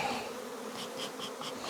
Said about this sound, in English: Now we got bees going everywhere.